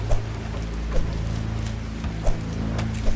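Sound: rain in video game Vector Zone

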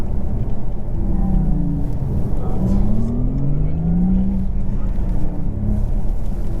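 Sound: Porsche Taycan Turbo S electric car accelerating

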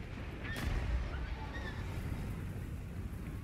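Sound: cannon salvo firing in video game Total War Warhammer 2

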